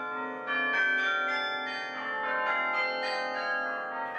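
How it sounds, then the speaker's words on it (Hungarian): Church bells ring joyfully for Easter Sunday, several bells sounding together in a continuous overlapping peal with repeated strikes, loud and rich with long ringing tones, no voices present. "a harangok visszatértek, és mind örömtelien szólnak Krisztus új életét ünnepelve"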